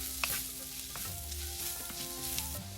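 Crushed red pepper and onion frying in oil for a bitter gourd and green bean stir fry, a steady close sizzle with a few sharp stirring clinks against the pan, no talking.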